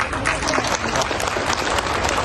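Audience clapping at an ex-servicemen rally, a dense, continuous burst of many hands clapping together, loud and close throughout.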